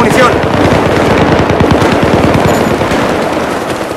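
Loud, sustained machine gun fire in the Battlefield 3 video game, dense rapid shots rattling close by with battlefield noise throughout.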